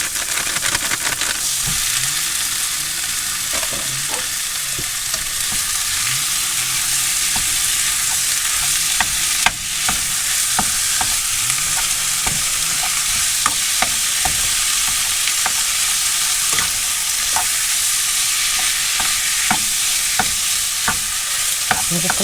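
Minced beef with 25% fat sizzles steadily in a pan alongside onions and tomatoes, cooked in a motorhome kitchen, with a continuous loud frying hiss broken by scraping stir strokes and occasional spatula knocks.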